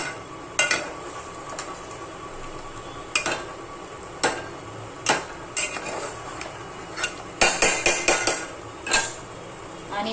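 A spoon stirs chicken curry in a pot over high gas, giving irregular metallic clinks and knocks against the pot rim. A few strikes land in quick clusters over a low bubbling background.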